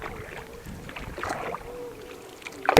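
A wooden country boat is rowed across the backwaters toward Kakkathuruthu island in Kerala: soft paddle swishes and faint water lapping under light wind, ending in one sharp close splash or knock.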